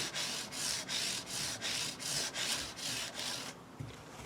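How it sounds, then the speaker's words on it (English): Guitar fret ends rubbed with StewMac microfiber polishing pads, about 1200 grit, during a guitar restoration: steady back-and-forth rubbing strokes in a fast even rhythm, close and fairly loud, with no talking. "Now with my StewMac microfiber pads, just going to hit these fret ends like this."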